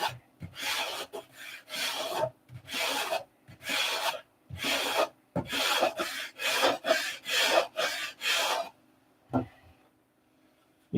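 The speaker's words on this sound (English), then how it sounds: "You kind of want to end up sanding into the fuselage side." Hand sanding along the side of a model airplane fuselage, a series of close, rhythmic rasping strokes in quick bursts with short pauses, ending in a few isolated strokes and quiet.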